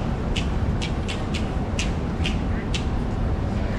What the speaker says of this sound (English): It is the smooth river rock, and it sounds like this.